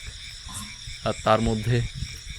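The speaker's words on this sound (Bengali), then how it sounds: "চারিদিকে ঝিঝি পোকার ডাক ব্যাঙের আওয়াজ ব্যাঙের ডাক" Frogs croak and crickets trill in a steady night chorus in the Sundarbans, heard from a floating boat, while a person speaks briefly over the calls.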